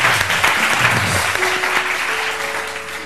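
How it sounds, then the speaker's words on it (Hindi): A seated audience gives a dense, steady round of applause that fills the space and fades slightly near the end, with no talk over it. "बहुत सारी तालियां हैं।"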